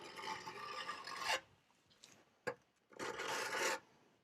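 A hand plane blade is rubbed across a sharpening stone to strip the burr, two long rasping strokes with a brief scrape between them, close and alone.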